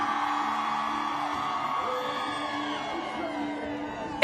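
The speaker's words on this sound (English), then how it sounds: "I want to hear you scream." A rally crowd gathered for reproductive freedom outside the Supreme Court screams and whoops together in a loud, sustained roar. The cheering holds steady throughout, with a sharp burst of shouting right at the end.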